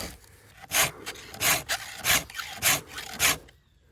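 A hand file sharpening the teeth of a worn saw gives five or six rhythmic, raspy strokes, evenly spaced and close up, with no talking.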